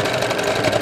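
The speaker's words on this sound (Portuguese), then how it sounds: "Eu estou costurando com a sapatilha J, que é uma costura reta, normal" A sewing machine runs a straight seam with a J presser foot, a short burst of fast, even mechanical whirring and ticking, close and steady.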